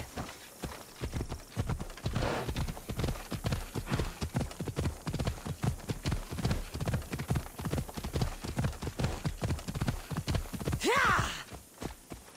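A horse gallops steadily in Assassin's Creed Odyssey, its hooves striking in a quick, regular clip-clop rhythm at moderate volume, with a brief snort or whinny near the end.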